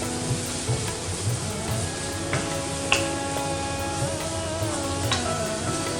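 Boiled corn stirred into pasta in a pan, a steady sizzling hiss with soft intermittent scraping and clicks of the spoon, close and continuous.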